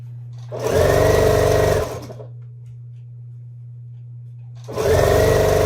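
A sewing machine stitches a piece onto a nine-patch quilt block in two close, loud bursts of rapid whirring, with a steady low motor hum during the pause between them.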